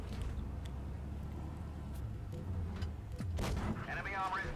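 A tank cannon shot fires in World of Tanks Blitz, a single heavy boom rising out of steady engine rumble and distant battle noise, followed by a brief ringing tail.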